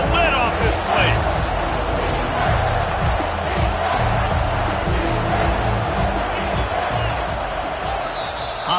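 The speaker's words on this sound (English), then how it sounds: "this crowd is tearing the lid off this place." Packed football stadium crowd roaring loudly and continuously on a third down at an Auburn–Tennessee game, a dense wall of cheering voices and shouts sustained for the whole stretch.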